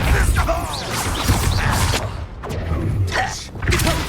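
Depulso force spell impacts in the Hogwarts Legacy video game, a string of heavy thuds and crashing bursts mixed with whooshing effects and shouted voices over continuous battle noise.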